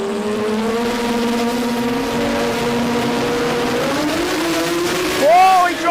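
Sports compact drag car at an Australian qualifying event roars through a low first gear, a loud sustained engine drone with rising harmonics and a sharp rev surge near the end, under a track commentator's voice.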